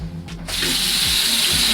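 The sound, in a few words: hot water running from a tap to warm up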